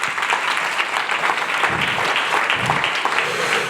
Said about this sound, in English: Round of applause for Tiara, boss lady.